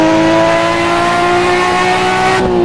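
A video game car engine with the Soundize sound mod holds a high rev, giving a loud, steady, buzzing whine with strong harmonic tones that cuts off sharply at the end.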